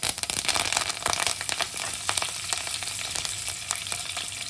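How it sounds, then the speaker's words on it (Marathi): Cumin seeds and curry leaves crackling in hot oil for a tempering: dense, rapid popping and spitting over a bright sizzle, close and steady throughout. "कढीपत्ताही आपला छान तडतडला आहे"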